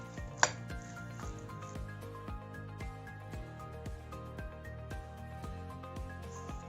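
Vegetables being mixed and coated with garlic sauce for homemade chicken shawarma: steady clinks, scrapes and light knocks of utensils, one sharp clatter near the start, then continuous close stirring with no talk.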